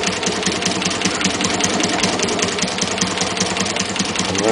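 A homemade shake-flashlight shaker machine runs steadily, a dense, loud mechanical rattle and buzz with a fast, even rhythm throughout, like a small motor shaking hard.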